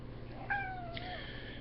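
A single cat meow, a short rising-then-falling cry heard fairly close but quietly over a steady low indoor hum.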